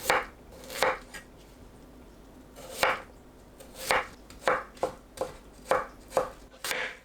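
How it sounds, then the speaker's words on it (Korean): A knife slices cucumber and bell pepper into thin strips on a cutting board, a series of crisp, irregular chopping thuds, close and fairly soft, with no talking. "오이는 물컹한 가운데 부분을 손질하고 채 썰어줍니다."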